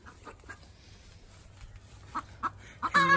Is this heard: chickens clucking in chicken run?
yes